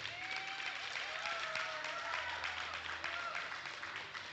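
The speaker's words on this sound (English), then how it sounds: "And a big round of applause for all of our Flight B athletes." Applause for Flight B athletes at a regional powerlifting championship in the Cayman Islands, a sustained crowd clapping at a distance under a tonal hum, with voices and faint sung or spoken tones running through it.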